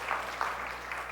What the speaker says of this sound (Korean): 다시 한번 수고해서 박수 보내겠습니다